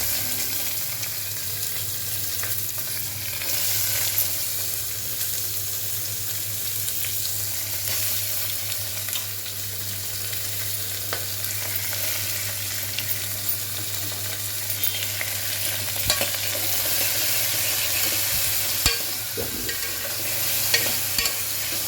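Sliced onions and green chillies frying in a pan, a constant close sizzle with occasional light scraping and utensil knocks throughout, no voices.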